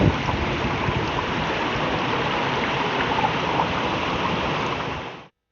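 Running water flows steadily in a small town square in L'Aquila, a continuous close rushing and splashing like a fountain or stream, alone and unbroken until it cuts off abruptly.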